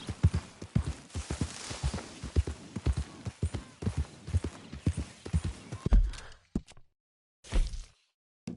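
Horse hooves gallop fast in Red Dead Redemption 2, a rapid rhythmic clatter of strikes that is loud and close, then breaks off into short silences and a last few isolated thuds.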